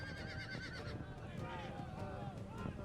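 Horses gathered in an army camp in Age of Empires 2, with neighing and whinnying mixed with clip-clop hooves and a busy camp bed, fairly faint and continuous.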